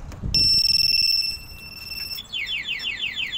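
A Yamaha NMAX V2 ABS keyless scooter's two-way anti-theft alarm goes off: a loud, pulsing electronic tone for about two seconds, then a rapid series of descending chirps, close and alone.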